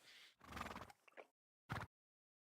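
A horse in a video game neighs and whinnies in a close, loud burst, followed by a short snort after a brief pause.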